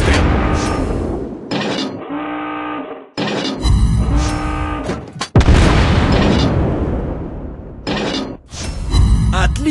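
Heavy naval guns boom repeatedly in World of Warships Blitz, with crashing shell impacts and bursts in a loud, chaotic sequence of explosions.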